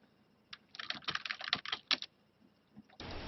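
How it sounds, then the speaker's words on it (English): Quick, uneven clatter of keystrokes on a computer keyboard, close and fairly soft, in a short burst of typing followed by a pause and a brief hiss. "I just have to type something in the chat"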